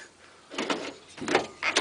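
A Hykee high security door lock fitted to a Ford Transit van door operates with three short mechanical whirring and clunking bursts, close and moderately loud, with quiet gaps between them.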